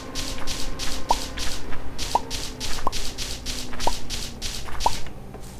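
In the Minecraft-like game MineClone2, water is placed and flows, giving a steady rushing wash with five sharp dripping plinks at roughly even intervals, close and alone.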